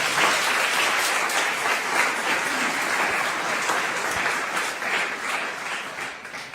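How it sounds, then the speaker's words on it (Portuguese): A church congregation applauds during a sermon, with dense, sustained clapping from many hands that holds at an even level from start to finish and has no speech over it. "Você pode aplaudir o Senhor?"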